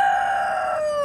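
A rooster crows once, close and loud, a single sustained tonal call with a falling end, alone without talk.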